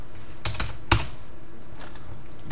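Quick bursts of keystrokes on a computer keyboard while code is typed, a cluster of close, sharp clicks followed by a few lighter taps and quiet pauses, with no voice over them.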